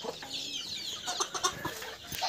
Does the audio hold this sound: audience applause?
no